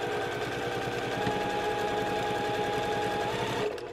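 A sewing machine chain piecing quilt blocks at a quarter-inch seam, stitching steadily with a rapid regular mechanical clatter and motor hum, close and alone, stopping abruptly near the end.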